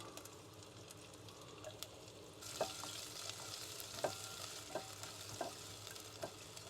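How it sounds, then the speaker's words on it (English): Garlic fries in a pan while Nepali traditional thali is cooked in a van; a soft sizzle swells partway through, with several light utensil scrapes and clicks at a faint, close level. "I'm gonna add the garlic now."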